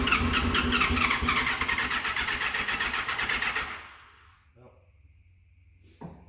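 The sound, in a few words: barn-find motorcycle (FJ1100 or GL1200) engine cranking, weak battery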